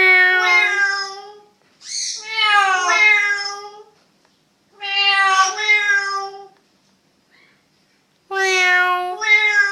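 Parrot imitating a cat's meow, giving four drawn-out, clear meow calls separated by pauses, loud and close with no other sound.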